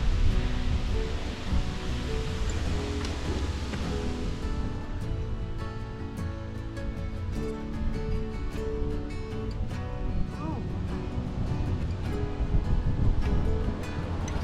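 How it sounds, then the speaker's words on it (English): A breeze sweeps through the trees along the Appalachian Trail in Maryland, a full rushing roar of wind and leaves that swells and eases slightly without pause. "Oh, the breeze."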